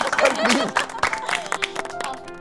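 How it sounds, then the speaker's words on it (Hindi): Short burst of clapping and crowd noise during a Hindi comedy drama scene, scattered claps mixed with chatter and voices, fairly close and loud. "मारफतिया जी के लिए तालियां बजाओ यार"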